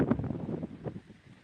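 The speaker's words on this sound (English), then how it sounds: "it started to get super windy." Gusty wind on a lake buffeting a microphone, a low rumbling roar that swells and then eases off over a brief moment.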